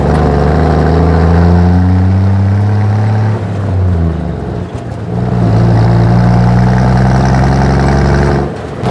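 A 1963 Ford F100 truck engine running while driving, a loud close droning rumble that rises and falls in pitch with a dip midway, then picks up again, no talk.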